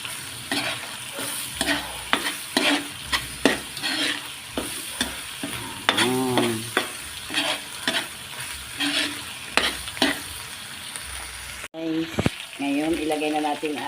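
Squash and string beans stirred in a frying pan for pakbet, a spatula scraping in steady repeated strokes over a soft sizzle, with a few brief voiced sounds near the end.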